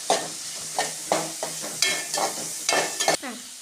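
Sliced onions with salt sautéing in a pan for egg roast, a soft sizzle broken by repeated scraping stirs of a spatula against the pan, about seven strokes in quick succession, close and with no voices.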